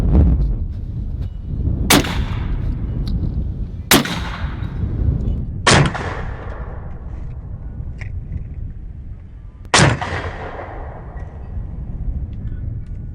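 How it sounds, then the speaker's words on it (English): Four sharp, loud .45 Long Colt revolver shots fired into ballistic gel, each a hard crack with a ringing outdoor decay, spaced unevenly a few seconds apart over a low background rumble. "let's put 2 rounds through this gel"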